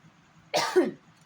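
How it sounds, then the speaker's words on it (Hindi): A single close, sharp cough from someone with a cold bursts out against a quiet background, lasting about half a second with no talking. "सर्दी खांसी हो जाने के कारण"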